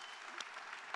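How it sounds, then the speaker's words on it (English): A brief burst of audience applause for a panel at a conference on alternative trading systems, a steady wash of clapping lasting about a second. "if everybody could join me in giving a huge round of applause to an amazing panel"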